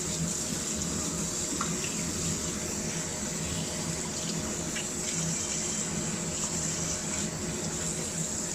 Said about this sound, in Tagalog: huhugasan na po natin uli yan ng maaligamgam na tubig